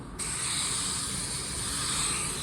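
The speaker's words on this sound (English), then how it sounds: "now we're going to go ahead and apply our 2 regular coats of clear" Spray gun laying down clear coat on a car bumper at about 28 PSI, a steady continuous hiss that starts abruptly and holds loud and even throughout, with no talking.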